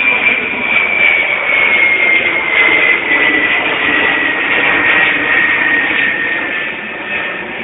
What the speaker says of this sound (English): One huge jet.